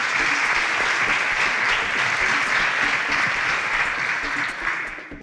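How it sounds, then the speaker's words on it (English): A studio audience at a televised quiz show claps for a contestant after a correct answer, a loud, sustained burst of many hands that tapers slightly at the very end. "A round of applause for Ethel."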